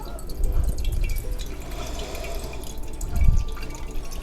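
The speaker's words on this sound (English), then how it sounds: "Delicious fresh coconut water." Coconut water dripping and trickling from a punctured fresh coconut, with close irregular drips and splashes and a couple of louder gurgling pours, no speech.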